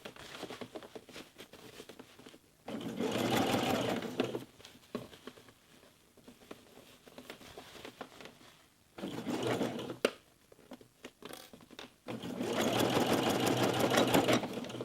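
A sewing machine stitches fabric for baby dungarees in three fast whirring bursts, close and clear, separated by quieter pauses with light handling of the cloth.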